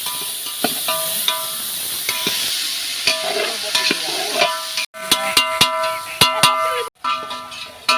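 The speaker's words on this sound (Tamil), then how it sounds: "தக்காளி எப்பவுமே நல்லா வதங்கணும்" Tomatoes sautéing in a pan for parotta curry give a steady sizzle, with a spoon repeatedly scraping and clanking against the metal in uneven strokes and a couple of brief silent breaks.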